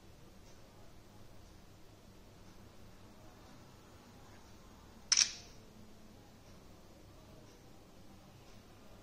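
A Realme X7 5G smartphone camera snaps a single photo, one short click-like burst standing out against a quiet, faintly hissing room.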